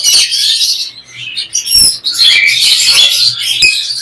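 Lovebirds, including red-eyed lutino and black-eyed green pairs, chirp at the Tongi bird market. Dense, loud tweeting from many birds runs without a break, with sharp individual calls rising above the chatter.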